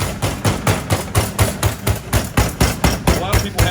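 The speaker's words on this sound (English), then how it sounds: "So we're pounding out the cutlet." A kitchen meat hammer pounds a cutlet under plastic wrap for jägerschnitzel, about a dozen close, loud thuds landing in a brisk, even rhythm throughout.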